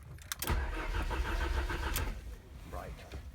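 A Lancia Delta with its immobiliser removed, ignition on and out of gear, as the starter motor cranks the engine in a steady churning whirr that does not catch; speech overlaps the cranking.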